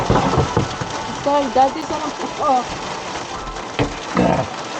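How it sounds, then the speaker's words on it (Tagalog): Hail drums on the roof of a Ram ProMaster City wagon van during a storm in Texas, a dense continuous patter heard from inside. A person talks and exclaims over the clatter. "Kaya nalagapak sa bubong. Yelo. Naulan ng yelo."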